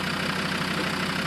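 Land Rover Discovery 2 engine idling after an injector seal repair, a steady, close and even rumble with a faint regular knock, no voices.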